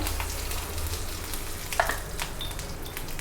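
Mustard seeds, urad dal, fennel and curry leaves splutter in hot oil for tempering, making a constant close sizzle with crackles and a sharp pop midway, stirred gently.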